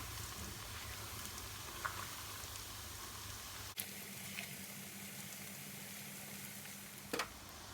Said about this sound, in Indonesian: Ini tempenya digoreng sampai kering banget.